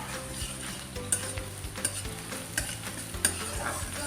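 Onions fry in a pan with a little sugar and crackle softly. A utensil scrapes and stirs at intervals of roughly a second, and each scrape knocks lightly against the pan.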